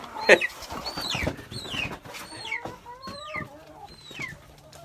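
Several Leghorn chickens cluck and squawk close by inside a bucket, with repeated chirping calls and short rustling scuffles across the whole stretch.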